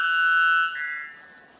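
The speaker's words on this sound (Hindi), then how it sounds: "Number 2, white bell bird. इसकी आवाज सुनकर लगता है कि कोई मौन कोई अलर्ट अलार्म बज रहा है।" A white bellbird's call rings out as a loud, piercing tonal blast like an alarm. One sustained note drops slightly in pitch midway, then fades.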